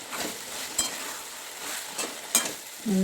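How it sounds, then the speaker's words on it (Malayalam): Beef and onions being stirred in a frying pan, a steady sizzle under sharp scraping strokes of a spoon against the pan, close and alone with no talk. "ഇളക്കി കൊടുക്കുക"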